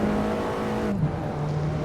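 Alfa Romeo 4C engine in the racing game Assetto Corsa, a steady engine drone that drops in pitch with a brief blip partway through as the car downshifts into a corner.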